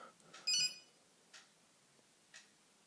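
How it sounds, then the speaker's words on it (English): A Nokia 3310 phone sounds a brief, bright electronic ringtone blip near the start, followed by two faint, spaced ticks in a quiet room. "some of them are like crazy ringtones."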